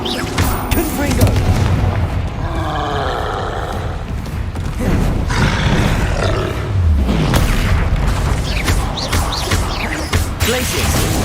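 Confringo explosion spell in Hogwarts Legacy combat: loud, booming blasts roar through a dense, continuous wash of battle effects, with rumbling bursts recurring across the clip.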